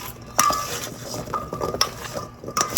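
Sweet potato and butternut squash chunks, skins on, being stirred with seasoning in a dish, giving a few light clinks and scrapes of utensil against cookware at close range, with no talking.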